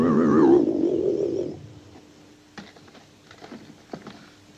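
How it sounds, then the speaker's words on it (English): Flying saucer sound effect played from a tape in the film Earth vs the Flying Saucers: a warbling, wavering electronic tone for about a second and a half, then fading into faint clicks and taps. "That's the sound of the saucer we heard on the tape."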